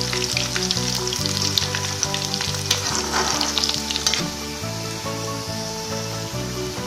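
Potatoes for dum aloo fry in hot oil, giving a constant loud sizzle with periodic scraping as they are stirred in the pan.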